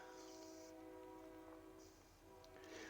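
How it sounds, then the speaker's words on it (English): A train rolls past near a house close to the tracks, a steady low rumble with a sustained tonal horn-like drone running through the whole stretch, fairly faint and distant. "So you hear a train in the background probably. I live pretty close to a train track."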